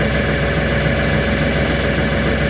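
An LS XR3135 tractor's engine, showing a fault code, idles in neutral with a steady, loud, low diesel rumble and constant vibration, with no break and no talking.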